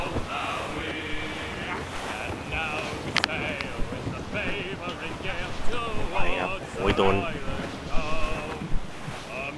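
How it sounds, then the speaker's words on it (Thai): Strong wind at sea in the video game Assassin's Creed Rogue, a constant roaring gust and wave wash behind a sailing ship, with game music and someone talking over it. "เรียกว่าไงลมนะครับเป็นลมแรงด้วย"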